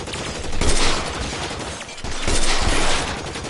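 Dense gunfire fills a battle in the video game LA Noire, with sustained bursts of shots rising in two loud waves and a brief lull between them, no voices on top.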